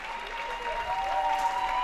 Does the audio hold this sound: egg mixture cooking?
no